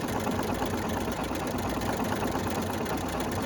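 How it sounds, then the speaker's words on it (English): Husqvarna Viking sewing machine fitted with a candlewicking presser foot, stitching at a steady rapid pace, close and continuous with no talk. "So we're laying down 3 layers of thread for each of these stitches, and it's flowing smoothly out the back of this foot."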